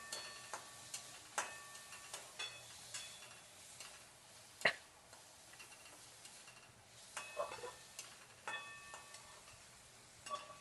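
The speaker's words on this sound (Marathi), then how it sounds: "बारीक कट करून घेतलेलं पनीरचे तुकडे यामध्ये टाकून देते. मिक्स करून घ्यायचं." Chopped paneer is stirred into a burger mixture in a pan over low heat, with sparse scraping and tapping clicks of the spoon against the pan at irregular intervals, fairly faint, with no talking.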